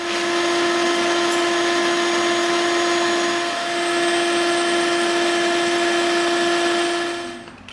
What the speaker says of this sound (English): So we'll use the Dremel.